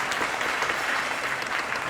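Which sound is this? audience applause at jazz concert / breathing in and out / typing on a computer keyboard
audience applause at jazz concert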